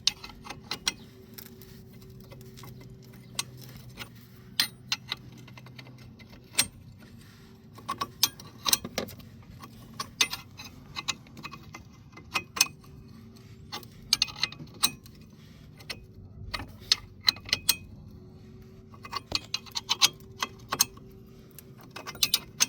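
Ratchet with an 18mm socket working a brake bolt loose on a 2010 Renault Twingo, giving irregular bursts of sharp mechanical clicks and clacks over a low background hum, close and fairly loud.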